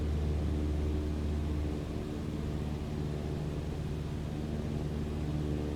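Airplane engine in Microsoft Flight Simulator, a steady low drone and rumble that settles to a slightly different tone partway through after a power reduction, with no talk.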